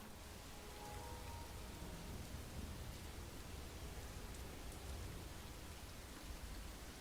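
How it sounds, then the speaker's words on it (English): Steady, soft hiss of rain in a heavily modded Wasteland Reborn game, with no thunder or voices. "Get this rain going."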